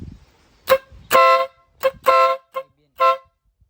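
Compact vehicle horn paired with a Nhay Pro Music horn sounds a series of short and longer blasts, about six honks in an uneven rhythm, loud and close, with brief silences between them.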